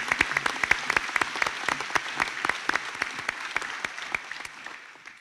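Audience applause for graduates at a 2021 graduation ceremony, many hands clapping steadily and densely for about five seconds with no talk, tapering slightly toward the end.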